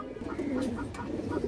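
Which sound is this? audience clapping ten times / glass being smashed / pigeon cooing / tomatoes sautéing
pigeon cooing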